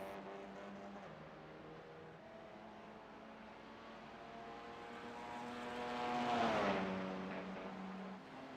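A GT4/TCR race car in a sim racing game at Zolder, held at full throttle, drones as a steady, fairly faint harmonic engine tone that swells and shifts pitch near the end as it revs past.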